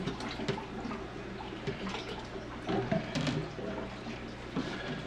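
Water sloshing and pouring during a large water change in a home fish tank, green algae being cleared out, a steady splashing wash with a few louder bursts, close and continuous.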